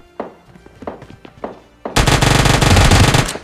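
An UZI submachine gun in PUBG Mobile Lite fires a loud, sustained rapid burst after a few scattered thuds, close and dominant.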